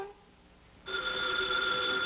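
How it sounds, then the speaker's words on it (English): After a quiet moment, a telephone starts ringing with a bright, sustained electronic bell tone, close and steady until the end. "Oh, there's the phone."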